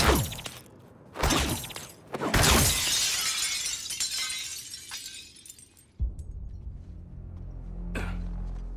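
Glass shatters in the video game Suicide Squad: Kill the Justice League, with several sharp crashes and smashes followed by a long spray of tinkling shards, then a heavy impact and a low rumble toward the end.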